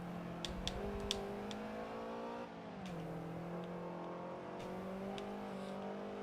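A Rocket Bunny BRZ race car engine drones and revs in a racing video game, a steady buzzing tone climbing and dropping with gear changes, with faint clicks over the top.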